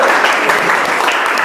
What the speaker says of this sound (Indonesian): Ya, kita kasih aplaus dulu.